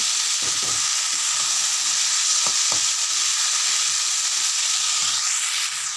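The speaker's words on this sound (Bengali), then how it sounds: "এবার এর মধ্যে দিয়ে দেবো সেদ্ধ করে রাখা মূলো দিয়ে আবারও মিশিয়ে নেব" Boiled radish is stirred into hot spiced oil in a pan for a fish-head radish ghonto, a steady close sizzle punctuated by a few sharp spatula scrapes.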